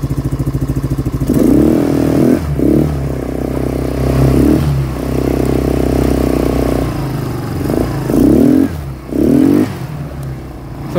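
A 2024 CRZ four-stroke quad engine runs close by, chugging at idle before climbing into several surging revs with a buzzy, mechanical rasp.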